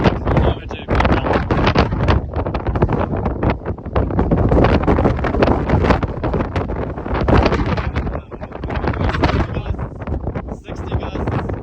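Strong gusty wind roars across the microphone during a severe thunderstorm with gusts around 60 mph, loud and buffeting throughout with surges and brief lulls, while people talk intermittently underneath.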